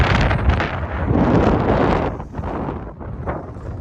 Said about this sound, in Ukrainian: Вітер такий, що боявся, що мотоцикл переверне.